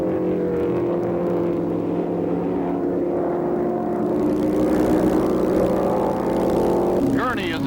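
Race cars roar past at the 1965 Los Angeles Times Grand Prix road race, with a continuous engine drone and a rising whine near the end. A commentator narrates throughout.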